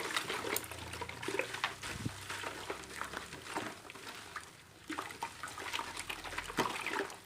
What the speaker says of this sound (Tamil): காஸ்டிக் சோடா தண்ணியில் நல்லா கரையிற வரைக்கும் நல்லா மிக்ஸ் பண்ணிக்கலாம்.